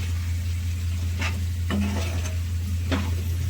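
Chicken frying with chili powder sizzles softly and steadily while a spoon scrapes and knocks against the pan a few times in short strokes.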